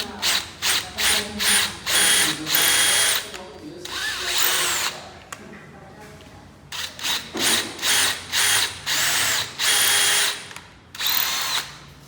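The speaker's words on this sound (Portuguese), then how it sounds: "Realiza os 4 furos." A power drill bores four holes to fit a Yamamotto YA 50W surface-mounted door lock. It sounds as loud, close, whining bursts in two rhythmic groups separated by a brief pause.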